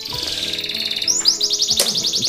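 A canary just after its moult sings continuously in high, rapid chirps and trills, starting with a buzzy warble and then breaking into bright repeated rising notes. It is close and fairly loud, with no talking.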